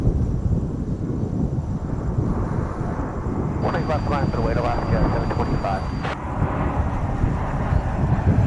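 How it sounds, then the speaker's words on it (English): An American Airlines Airbus A321 jet arrives from Las Vegas at a large airport, its engine roar a steady broadband rumble throughout, with a brief high tonal whine and chatter in the middle, under constant wind noise. "Here, confusingly, comes American Flight 777, which is an A321, arriving from Las Vegas."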